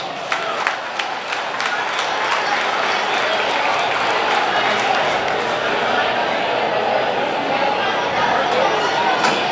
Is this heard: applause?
yes